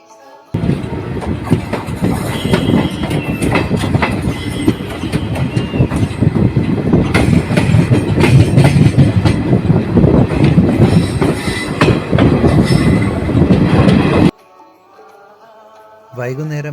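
A passenger train bound for Kayamkulam Junction rumbles loudly and steadily from on board, with dense clickety-clack of wheels over rail joints and occasional squeals, before dropping abruptly to a quieter background.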